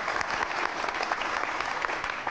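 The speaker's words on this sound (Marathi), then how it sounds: "एकदा जोरदार टाळ्या सगळ्यांसाठी." Vigorous, continuous applause from a studio audience on a Marathi television game show, many hands clapping at a constant, full level with no speech over it.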